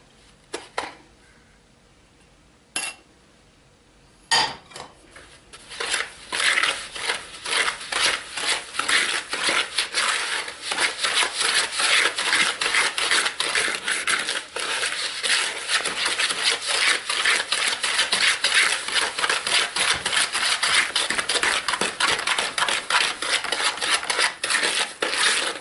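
Two eggs being mixed into sugar cookie dough in a bowl, heard as a few sharp knocks at first, then steady, rapid scraping and rubbing strokes of a spoon against the bowl continuing loudly to the end.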